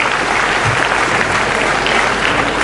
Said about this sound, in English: can we give them a round of applause for what they did and what they displayed?